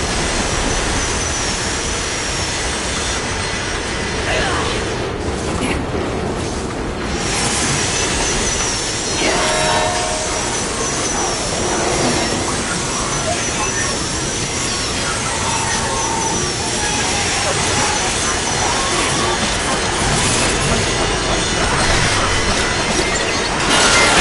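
Train car in a video game rolling along rails, a loud continuous rumble with high metallic squeal and wind-like roar that holds steady throughout, with no voices.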